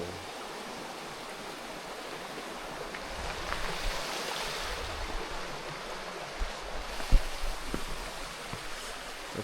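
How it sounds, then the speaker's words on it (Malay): A river stream flows beside a hiking trail on the way up Gunung Berembun, with a steady, fairly quiet broadband rush of water. "baru hiking dah ada air sungai"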